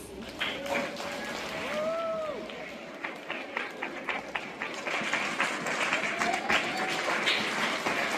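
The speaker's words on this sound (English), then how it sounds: "let's give them a round of applause" School concert audience claps for eighth graders standing for recognition, applause building to a steady patter of many hands while voices and cheers ring out at the start.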